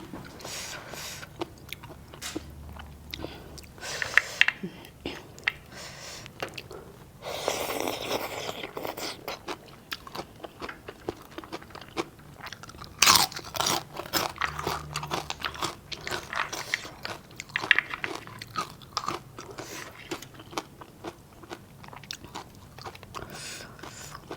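Crunchy bites and chewing of spicy Thai-Lao snail papaya salad eaten with bitter melon sound up close, irregular crisp crunches recurring throughout with brief pauses and no talking.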